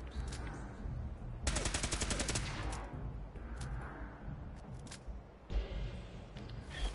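Gunfire from the video game Fallout 4, a dense burst of rapid shots in the second and third seconds, then scattered single shots over constant game background noise.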